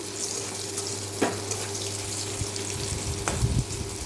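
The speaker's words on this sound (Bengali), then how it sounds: "এরপর আমি কড়াইয়ে তেল দিয়ে এগুলো ভেজে নেবো" Spices frying in oil in a kadai give a steady, close sizzle with a low background hum and a couple of soft clinks of a utensil against the pan.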